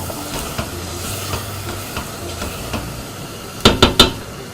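Spoon stirring curry powder into a cooking pot, soft scraping throughout with three sharp metallic clinks against the pot near the end, close and fairly quiet.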